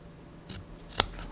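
Fabric scissors snip notches into the curved seam allowance of a sewn piece, two crisp cuts close up, the second sharper and louder, with no talking.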